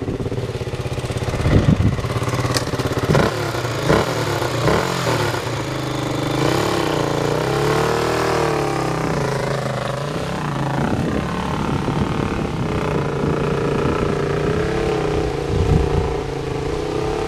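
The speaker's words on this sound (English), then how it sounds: "Your bike's running, get to the top!" Motorbike engine revving hard on a steep hill climb, sustained loud throttle with rising and falling pitch, near and continuous throughout with a few sharp bursts early on.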